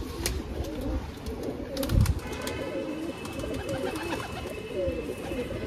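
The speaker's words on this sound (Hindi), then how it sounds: "ये रहा कबूतर" Pigeons coo softly at moderate distance, their low rolling calls repeating throughout among a small group of birds, with faint background noise and a brief thump partway through.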